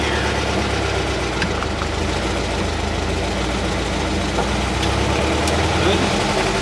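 A car engine pulling in first gear while the car backs out without mirrors, a steady loud rumbling drone that holds throughout.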